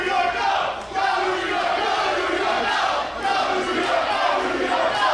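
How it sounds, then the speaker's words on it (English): A large wrestling crowd at a tag team championship match roars and cheers loudly and continuously, a dense wall of voices with a couple of brief dips in volume. "With the deafening roar of the crowd behind them"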